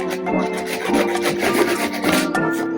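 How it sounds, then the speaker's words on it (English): A hand saw cuts through wood for a garden entrance build, giving a close, steady rasping in quick back-and-forth strokes with no talking. "Time to get a saw."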